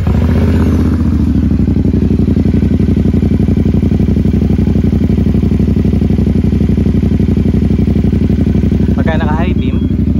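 A CFMOTO 450SR-S motorcycle engine runs at a steady idle close by, with a loud, even, rapid pulsing throb throughout, a brief mechanical clatter near the start and a short whine near the end.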